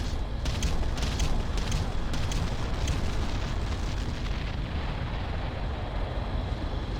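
Artillery bombardment in the Ground Control strategy game, a continuous rolling barrage of heavy booms and blasts with sharper crackling impacts early on.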